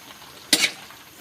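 A single quick stir of vegetables and dalag fish cooking in a pot of Ilocano pakbet, a short scraping swish over a soft, steady simmering hiss; no voices.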